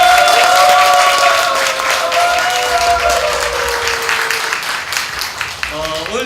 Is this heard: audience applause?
yes